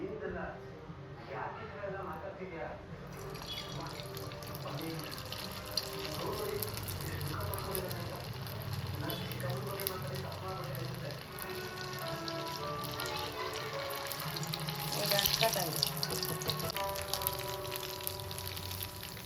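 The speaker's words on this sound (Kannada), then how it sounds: "ಸೊ ನಾವೀಗ ಎಣ್ಣೆಗೆ ಬಿಡೋಣ. ಎಣ್ಣೆ ಸಿಕ್ಕಾಪಟ್ಟೆ ಕಾಯ್ದಿದೆ ಅನಿಸುತ್ತೆ." Potato snacks coated with semolina drop into very hot oil for deep-frying, giving a steady crackling sizzle that fills the whole stretch, with a voice and other sounds layered over it.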